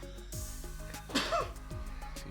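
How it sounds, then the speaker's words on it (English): One sharp sneeze bursts out partway through, close and loud, over a steady background hum with a few soft clicks. "I'm gonna sneeze."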